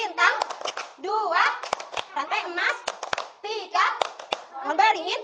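Children chant the Pancasila symbols together in a classroom clapping routine, with sharp hand claps popping at irregular intervals between their loud, close voices.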